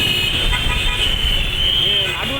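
Dense traffic during the Mysore Dasara festival rumbles steadily, with a sustained high horn tone and short honks cutting through near the end.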